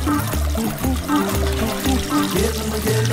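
Water pours steadily into a container until it fills and spills over, a loud continuous gushing and trickling over a bed of other tonal sound.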